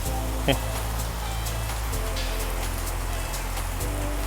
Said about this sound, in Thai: ฝนตกบรรยากาศดีมากครับ น่านอนมากเลย